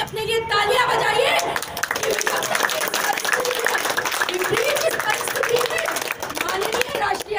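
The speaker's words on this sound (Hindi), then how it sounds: "अपने लिए तालियां बजाइए" Audience applause at a Hindu Mahasabha foundation day gathering, a dense, continuous clapping from a crowd that fills the whole stretch, with some voices mixed in.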